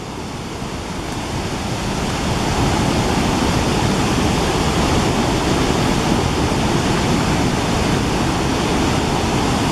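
Breakwater Falls roaring as water rushes wide open from a dam on the Pine River Flowage, a loud, steady, unbroken torrent filling the whole scene with some wind on the microphone.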